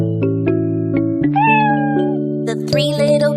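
Cartoon kittens in a Three Little Kittens nursery rhyme meow in short, high, sung cries that repeat several times over a steady musical backing, loud and close.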